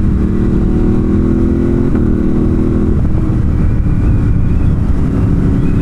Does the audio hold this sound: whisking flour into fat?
no